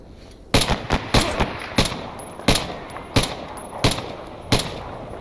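Gunfire in the S.T.A.L.K.E.R. video game, in the Meadow wild area: about eight to ten sharp, loud shots fired in uneven bursts and single cracks over a low ambient background.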